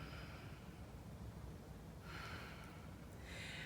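Breath is drawn in during a yoga twist, with soft audible inhales and a sharper breathy snort near the end over a low room hum; no one speaks.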